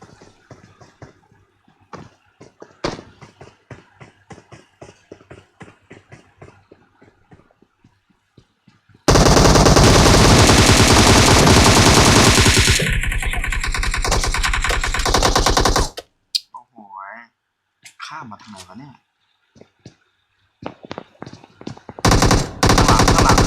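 Automatic gunfire in the mobile battle royale game PUBG Mobile: scattered single shots, then a loud, sustained stream of rapid fire, with brief talk between bursts.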